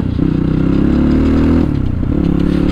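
A motorcycle engine runs loud and close on a city road near Teku, Kalimati, holding a steady low throb that rises briefly in pitch as it revs, then drops and settles again, with no talking over it.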